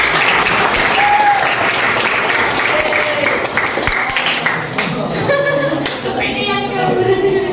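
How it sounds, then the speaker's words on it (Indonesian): Loud, close applause fills the room at a classroom teaching session, a dense continuous clatter of many hands with a few brief voices and shouts rising through it. "Sekali lagi kita kasih tepuk tangan."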